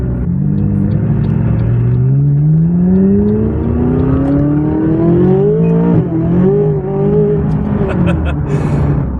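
A McLaren 570S supercar with a dual-clutch transmission and aftermarket exhaust accelerates from inside the cabin, its loud engine tone climbing steadily through the gears before a quick shift and another pull, over a constant road rumble.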